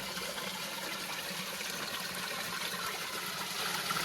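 Waterfall in nature, a dense, steady rush of falling water filling the whole clip at an even, moderately loud level with no voices.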